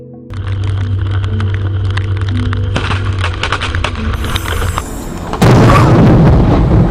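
A loud, sustained rumbling roar with crackling bursts, then a sudden heavier boom near the end, like a close lightning strike.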